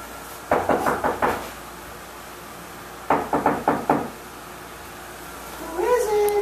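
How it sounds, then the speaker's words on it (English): Knocking on a front door during a dog training session, two bursts of about five sharp raps each, close and loud, followed by a brief voice. "we'll see how he does with the door knocking"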